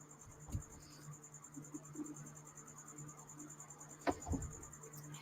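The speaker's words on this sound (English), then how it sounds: "The stupid cricket is back." A cricket chirps faintly indoors in an artist's studio, a thin steady high trill running through the whole stretch over quiet room tone, with a couple of soft knocks in between.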